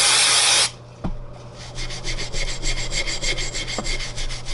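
A dirty motorcycle sprocket from a 1980 Kawasaki KZ750 LTD café racer is scrubbed clean in rapid, rhythmic back-and-forth rubbing strokes, close up, after a brief burst of hissing spray.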